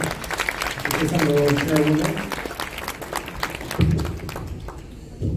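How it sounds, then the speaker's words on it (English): Guests at a Korean community fundraising event for a Samaritan foundation applaud, a broad patter of clapping that swells and then thins out, with a voice speaking over part of it. "We'll give her a round of applause."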